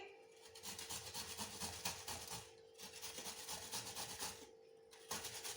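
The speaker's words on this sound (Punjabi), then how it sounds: "ਹੁਣ ਅਸੀਂ ਕੱਦੂਕਸ ਦੀ ਬਰੀਕ ਸਾਈਡ ਤੋਂ ਇਹਨੂੰ ਕੱਦੂਕਸ ਕਰ ਲਾਂਗੇ" Raw turmeric root is rubbed against the fine side of a kitchen grater in steady back-and-forth rasping strokes, close and quiet, with two brief pauses.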